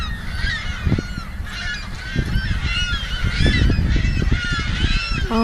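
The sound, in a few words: flock of birds calling overhead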